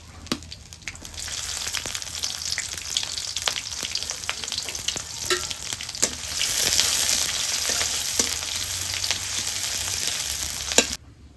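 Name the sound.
whole spices and chopped onion frying in mustard oil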